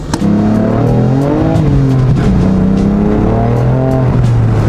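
A manual BMW G80 M3 accelerates hard, its loud engine note climbing in pitch, dropping briefly at each gear shift, then rising again, heard close and alone.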